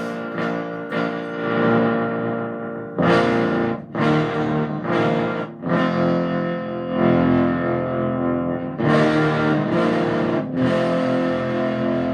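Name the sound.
distorted electric guitar through vintage amp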